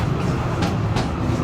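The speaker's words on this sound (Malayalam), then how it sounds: "Tram mount ഫ്ലോയൻ കയറിക്കൊണ്ടിരിക്കുകയാണ്." A tram climbing Mount Fløyen in Bergen, Norway, gives a steady low rumble with a couple of faint clicking rail sounds.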